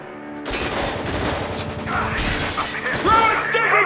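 Dense automatic gunfire from the shooter Spec Ops: The Line rattles continuously at close range, mixed with sharp impacts and mechanical clatter, while voices shout over the firefight.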